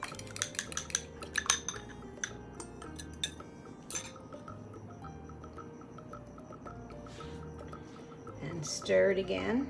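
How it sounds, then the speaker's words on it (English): Egg being stirred into a keto pizza dough mixture in a bowl, with a run of close clinking and scraping strokes early on that soften into a quieter steady stir, ending in a louder scrape. "You're just going to stir it quite a bit here."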